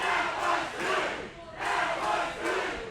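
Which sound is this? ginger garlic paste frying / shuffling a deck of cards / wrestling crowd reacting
wrestling crowd reacting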